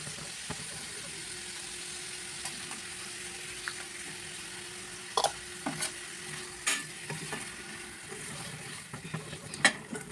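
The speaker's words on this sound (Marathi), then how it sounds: "आपली कोळंबी मस्त फ्राय झाली आहे." Prawns fry in a pan with a soft continuous sizzle, punctuated by scattered sharp clicks and scrapes of stirring, fairly quiet and close with no talking.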